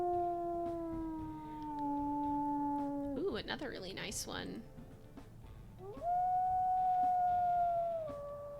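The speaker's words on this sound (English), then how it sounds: "Let's go ahead and listen to his howls." Wolf howls from the video game WolfQuest: two long, steady sustained tones, the first falling slightly, with a higher-pitched second howl. Between them comes a brief burst of noisy game audio, and a person speaks briefly over the sound.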